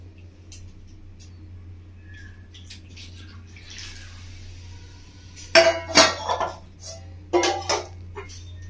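Water is poured from a spice bowl into a cooking pot to rinse it, giving a few short splashing, clinking bursts after a long quiet stretch with a low steady hum underneath.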